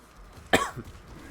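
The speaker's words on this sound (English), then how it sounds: "Sorry for the coughing too" A single sharp cough from a person with a cold, close and fairly loud, with a brief rough follow-up sound right after, then quiet room noise.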